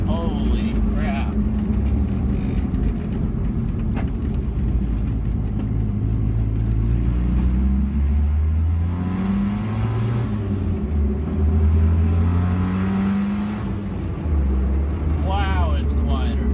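Car engine revving with a newly installed muffler, a deep low rumble rising and falling steadily throughout, with a voice talking over it.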